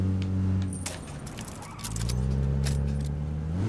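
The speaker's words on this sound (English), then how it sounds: "Is somebody coming? I hear a vehicle." Low engine hum of a vehicle approaching in the video game PlayerUnknown's Battlegrounds, rising and falling in pitch, with sharp metallic clicks and jangles over it.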